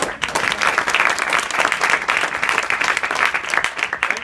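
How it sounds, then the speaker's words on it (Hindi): Students in a school hall give sustained applause throughout, a dense, steady wash of many hands clapping at close range, with no voices over it. "ताली बजाने में कंजूसी हो रही है।"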